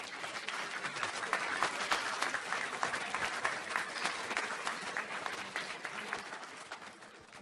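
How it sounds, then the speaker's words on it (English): A banquet audience applauds steadily, a dense wash of many hands clapping that holds strong for several seconds before gradually thinning out at the end. "How about giving them a round of applause?"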